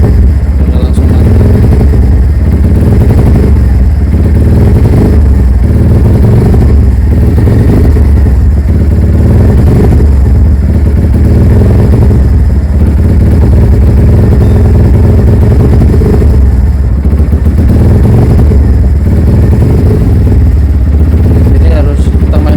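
A Kawasaki W175 motorcycle engine runs loud and close as the throttle is blipped repeatedly, giving a rough, pulsing mechanical rumble with clatter that stays steady throughout.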